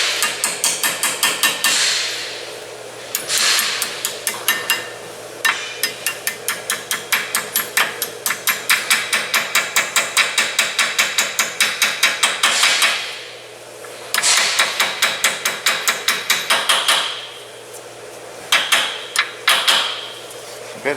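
A hammer taps pins into a Brembo brake caliper on a Genesis G70, rapid bursts of sharp metallic blows in quick rhythmic runs separated by short pauses, close and loud.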